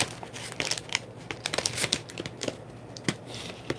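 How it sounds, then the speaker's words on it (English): Midnight and Heather cardstock being cut for a mermaid album base page, heard as crisp, uneven paper crinkles and snips in quick irregular bursts, close up, with no talking. "let's cut that out of the Midnight cardstock and the Heather cardstock"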